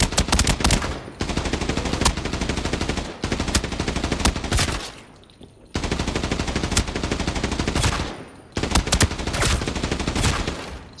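Assault rifle fire in the shooter game Arena Breakout, loud sustained full-auto bursts of several seconds each with brief pauses between, rapid dense cracks and a steady low hum underneath, no talking.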